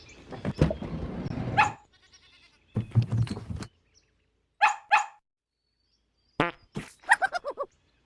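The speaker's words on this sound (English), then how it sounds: "Dog." A dog in a children's farm-animal cartoon barks in short, sharp bursts: a double bark, then a quick cluster of yaps, near and loud, with noisy sounds before it.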